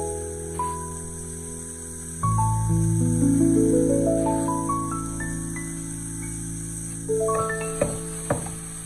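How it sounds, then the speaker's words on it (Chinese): Winter melon stir-fried with garlic and chili in a wok over high heat, a steady sizzle and clatter that swells loudly after a quiet start, overlaid with a rising series of bright tones. "所以这里也要多给它翻炒一会"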